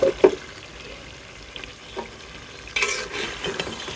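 Duck meat and potatoes being stir-fried into a curry, with soft scraping stirs and a low sizzle, a few louder clanks near the start and a brighter burst of sizzling toward the end.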